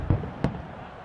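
Fireworks burst during an American football game between Australia and Mexico, with two sharp booms about a third of a second apart, followed by a low rumble of ambient noise.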